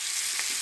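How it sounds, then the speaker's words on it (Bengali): Rice dish ingredients fry in white oil, giving a brief, steady hissing sizzle at close range with no talk. "তো এই ভাজাটা আমি হোয়াইট অয়েলে ভেজে নিচ্ছি"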